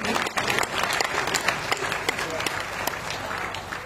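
An audience at a Hindi poetry gathering (kavi sammelan) bursts into dense, sustained applause with sharp individual claps standing out, loud at the start and easing slightly toward the end.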